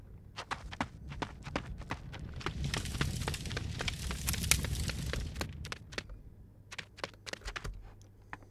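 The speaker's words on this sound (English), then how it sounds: "So in case we are running, or sprinting, regardless of where we came from, it will sound like that our character is slowing down a little bit" Footsteps of a game character in a Unity project driven by Wwise, a quick run of crisp steps that bunch together in the middle, then space out and slow toward the end, close and fairly soft with no talking.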